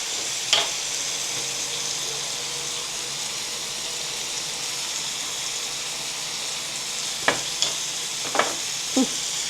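Tomatoes and eggs cook in a pan with salt, pepper and chilli flakes, making a constant sizzle. A few scraping stirs come near the start and again toward the end, close by, with no voices.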